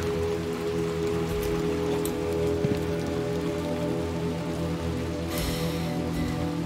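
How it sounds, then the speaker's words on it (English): Steady rain falls in the video game Little Nightmares 2, a constant close hiss of drops on surfaces that stays even and loud throughout, with no voices over it. "Oh, we're back in the rain again."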